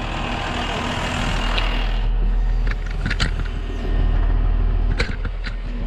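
A four-wheel-drive tractor carrying a one-tonne front ballast weight idles steadily as its engine warms up on a compacted field, a continuous close low rumble with brief clanks over it.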